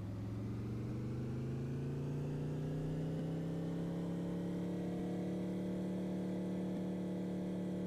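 Car engine in the Guts and Glory video game, driving in reverse: a steady mid-pitched drone with a slowly rising pitch, continuous and fairly close, with no other sounds.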